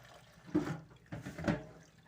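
Urad dal being washed by hand in a bowl of water, with two soft sloshing swirls, close and faint, in a quiet kitchen and no talk.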